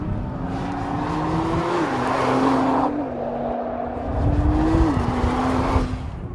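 A 2014 Nissan GT-R Track Pack driven hard on a race track, its engine note loud and close, climbing steadily and dropping briefly at each gear change, with no voices.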